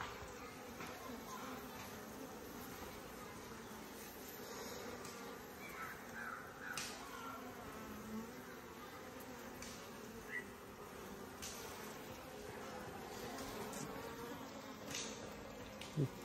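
Honey bees hum in a faint, steady buzz during outdoor honey collection, with occasional crow caws and soft background noise.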